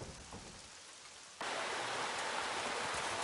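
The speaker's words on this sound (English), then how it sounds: "The torrential rain remains an obstacle for the captain and company as they press toward the plains." Torrential rain in the video game Granblue Fantasy: a soft, steady hiss that suddenly swells into a loud, dense, broadband downpour partway through and then holds steady, with no voices.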